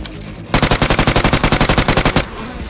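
A rapid automatic gunfire burst in the video game Peacekeeper Elite, about twenty evenly spaced shots over roughly two seconds, loud and close, with quieter ambience before and after.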